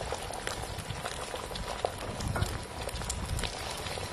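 Egg frying in hot oil in a wok gives a steady, close sizzle and crackle with a few sharper pops, heard with no talk over it.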